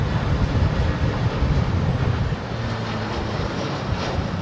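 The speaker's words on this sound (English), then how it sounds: "2 Eurowings jets in a row." Eurowings jet airliner at Heathrow, a loud broadband engine roar with low rumble filling the whole stretch, close and steady, easing slightly toward the end with no talk over it.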